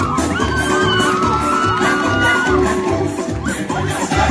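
A crowd at a Día del Indio celebration in Copán, Honduras, cheers, whoops and shouts loudly and continuously, with mixed voices layered throughout.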